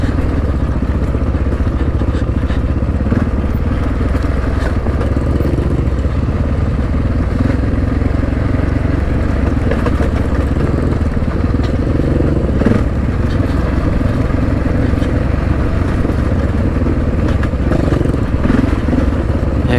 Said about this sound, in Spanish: Tiene un arrancón endiablado esa moto